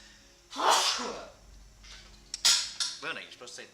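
A single sharp, close sneeze bursts out early, followed by a few short clattering knocks and brief voiced sounds from a person nearby in a room.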